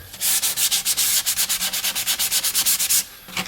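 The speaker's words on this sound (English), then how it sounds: "put your sandpaper and just rub it along there" Wood sanded by hand with sandpaper, a loud, close, rasping back-and-forth scrubbing in a quick, steady rhythm of about twenty strokes, with no talk.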